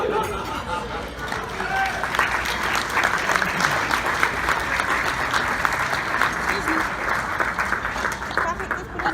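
An audience claps at a ceremony banquet while seated guests stand up, a loud, dense and continuous round of applause with crowd murmur mixed in.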